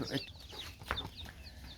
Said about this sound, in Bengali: এই যে মুরগির বাচ্চাগুলো দেখতে পাচ্ছেন এগুলো খাসি মুরগির বাচ্চা